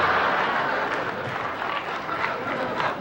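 A studio audience applauds at a late-night talk show, a dense, steady wash of clapping that holds evenly throughout at close range with no talk over it.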